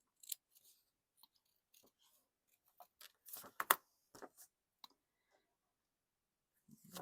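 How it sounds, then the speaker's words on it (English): Scissors trimming a paper page and snipping out shapes, heard as sparse, quiet crisp snips and clicks in short clusters with long silent gaps between them. "I'm going to trim the page, and I'm going to see if I cut any more shapes"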